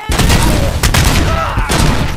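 Gunfire and a grenade blast in Robocop Rogue City: loud, close bursts of rapid shots with sharp cracks and a booming hit, dense and continuous throughout.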